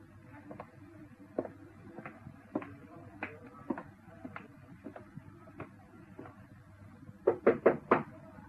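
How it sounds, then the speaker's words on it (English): Knocking on a door in a BBC radio ghost story, light irregular raps spread across the clip, then a quick cluster of four louder, closer knocks near the end. "No need to stand knocking"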